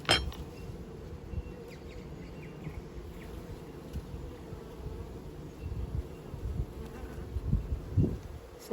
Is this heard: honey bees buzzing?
yes